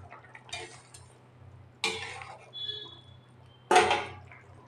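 Metal clanks and clinks in a home kitchen as a pot holding prawn curry is handled and covered with its lid, three sharp separate knocks over a low steady hum.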